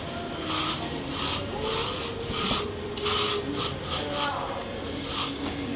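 Hairspray misted in repeated short bursts to set a hair bun, each hiss close and fairly loud, about a dozen sprays in an uneven rhythm.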